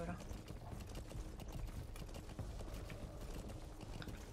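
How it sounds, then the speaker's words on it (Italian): Horse hooves gallop in the video game Metal Gear Solid V, a quick, steady clopping rhythm with some mechanical clatter mixed in, moderately quiet throughout. "È il cavallo che mi scappa."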